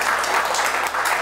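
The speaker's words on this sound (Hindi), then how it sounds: "इनके लिए एक बार ज़ोरदार तालियां हो जाएं" An audience at a poetry gathering in Prayagraj applauds loudly, a short, dense burst of clapping heard close and continuous for just over a second.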